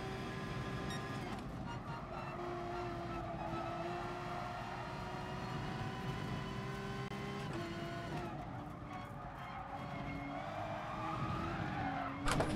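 A race car in the video game Gran Turismo Sport skids with a long, steady tire squeal over a continuous engine drone, its pitch sliding and wavering, loud and sustained with a sharper burst at the very end.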